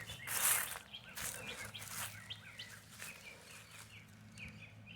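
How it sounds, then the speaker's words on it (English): Small bird calls outdoors, a series of short chirps and whistled notes repeating irregularly at moderate distance over a low steady background rumble, with a brief rustle near the start. "I hear a bird, but I don't see."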